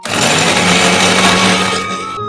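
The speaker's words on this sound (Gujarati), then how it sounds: "હવે તેને ભાગીને આપણે અંદર મિક્સર જારમાં તેને દળી દેવાના." A mixer grinder grinding fried muthiya, a loud close motor whine running steadily for about two seconds before winding down.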